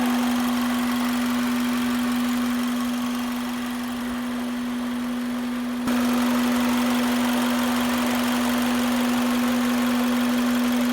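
An Acura RSX Type-S engine with an aftermarket air filter idles steadily with a constant high-pitched whine running over the low rumble, loud and close throughout.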